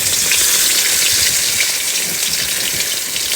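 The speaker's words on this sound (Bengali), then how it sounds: "এবার মাছগুলো ভাজবো" Tengra fish frying in a pan of hot oil, a steady, loud, dense sizzle and crackle that holds evenly throughout with no voices.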